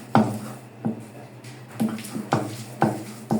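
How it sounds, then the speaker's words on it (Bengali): Fish being ground by hand on a stone slab (pata) for fish bharta, a series of about seven evenly spaced knocks and scrapes of stone on stone, close and distinct with quiet gaps between. "এখানে মাছগুলো ভালো করে পাটায় বেটে নিব।"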